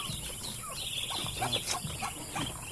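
Domestic ducks coming out to be fed give a run of short, harsh calls, moderately close, over steady background noise with no talking.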